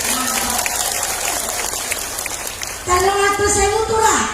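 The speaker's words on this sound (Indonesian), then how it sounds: "Tepuk tangan dulu." Applause from the women of a religious lecture audience in Indonesia, a broad crackling wash that swells louder partway through, with a voice speaking over it.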